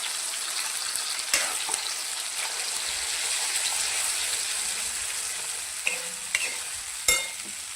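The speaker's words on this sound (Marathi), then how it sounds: "खोबरं लसूण बारीक केलेला आपण हा मसालाही चांगला फ्राय करून घेऊया" A finely ground coconut and garlic masala fries in oil alongside cashews, making a steady close sizzle with occasional clinks and scrapes of a spoon stirring the pan. No one talks.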